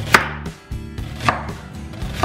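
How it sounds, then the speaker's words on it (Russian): A knife cutting an onion very thinly for a salad served with pilaf, a few sharp chops on a board spaced apart, crisp and close with quiet gaps between strokes. "возьмем луковицу тоненько-тоненько, прямо насколько можно тоненько режете"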